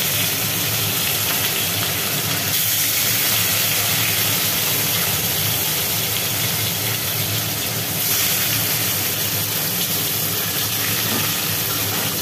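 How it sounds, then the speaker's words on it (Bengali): Rohu fish pieces rubbed with salt and turmeric fry in hot oil, giving a loud, steady hiss and crackle that carries on unbroken throughout. "তেলে ছেড়ে দেওয়া হলো নুন হলুদ মাখানো চারা রুইগুলো, রুইয়ের টুকরোগুলো।"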